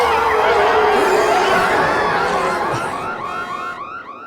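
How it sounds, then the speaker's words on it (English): A car alarm blares in Left 4 Dead 2, its loud wailing tones sweeping up and down over a dense wash of crowd chatter and game noise, thinning toward the end. "I hate car alarms."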